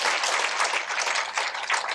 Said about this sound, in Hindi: अब ताली बजानी चाहिए